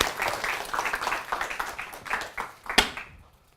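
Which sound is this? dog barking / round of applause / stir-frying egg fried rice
round of applause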